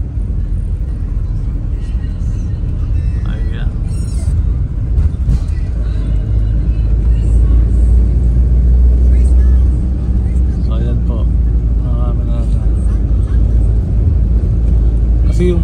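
Steady road traffic on a busy highway in Bicol heading south during the New Year rush, a continuous loud rumble of passing engines with a deep low drone, while a voice talks over it throughout.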